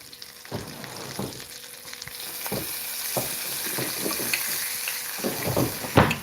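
A piece of bacon sizzles on a grill as it renders for tallow, a steady hiss and crackle punctuated by sharp clicks and taps of tongs, growing busier toward the end.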